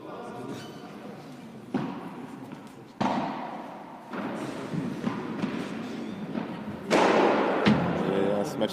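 Padel balls thud sharply at irregular intervals during a rally in a tournament final, building to a loud smash, with crowd noise and voices throughout.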